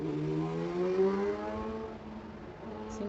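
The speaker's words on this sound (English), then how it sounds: "Seems like the motorcycle just wants to stay on my block." A motorcycle passing on a residential block, a droning engine tone heard at moderate distance that rises slightly and then fades away.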